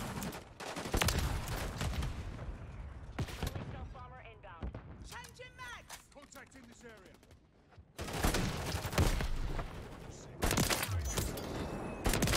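Loud gunshots from a sniper rifle in a shooter video game crack out in bursts with pauses between them, mixed with in-game effects and talk from players.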